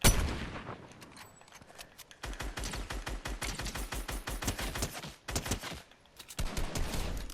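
Rapid automatic gunfire in Fortnite on a training map, shooting at moving bots: dense bursts of shots in long streams with brief pauses, loud and close, no talking.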